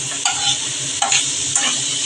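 Ridge gourd stir-fried with spices in a pan sizzles loudly and steadily, with three distinct stirring scrapes landing at regular intervals over the frying.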